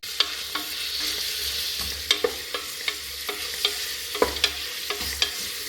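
Onions, coconut and other ingredients for mutton leg soup fry in a pan with a steady sizzle, broken by sharp clinks and scrapes of a spoon stirring at an irregular pace, close up and with no voices.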